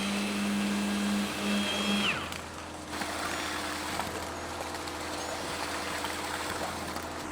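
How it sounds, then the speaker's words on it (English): A pump runs during a home rebuild, pulsing water through a hose: a loud, steady rushing drone with a faint hum and whine that cut out after about two seconds, leaving continuous noise. "Is that the pump making those little spasms in the hose?"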